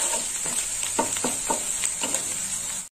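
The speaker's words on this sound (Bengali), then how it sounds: "হলুদটা একটু ভাজা হবে" Turmeric powder frying in oil after onion, a steady close sizzle with a rhythmic series of soft stirring scrapes and taps every half second or so.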